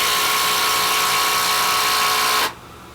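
A Milwaukee 12V impact driver drives a lag screw into wood that has not been pre-drilled, a loud continuous whirring buzz up close that stops abruptly near the end.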